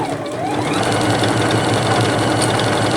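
A Juki HZL-F300 sewing machine with a leveling foot stitches through thick fabric layers at a long stitch length, a loud, steady, close motor whir with rapid needle chatter running throughout.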